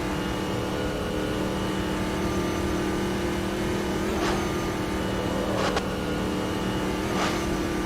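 A race car engine on the Nordschleife in Automobilista 2 drones loud and steady while the driver gets back on the power, holding an even roar with a few brief rising whines over it.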